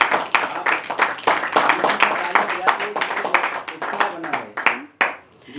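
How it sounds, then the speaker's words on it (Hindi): An open-mic poetry audience breaks into brisk, dense clapping that keeps going for several seconds before tapering off at the end. "दोस्तों एक बार जोरदार ताली बजाइए।"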